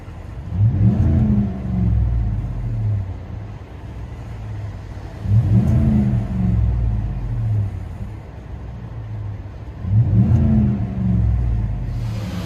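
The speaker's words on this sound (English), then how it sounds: "Here, let you hear on the inside." A deep, throaty 5.3L V8 exhaust on a 2018 Chevy Silverado with a Black Widow aftermarket exhaust rumbles from inside the cab, swelling in three loud revs spaced a few seconds apart over a steady low drone.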